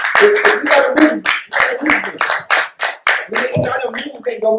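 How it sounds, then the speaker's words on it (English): An audience applauds in an indoor political gathering for the Green Party, a dense, steady burst of clapping with a few whoops, loud and close, fading slightly toward the end. "Let's get a round of applause."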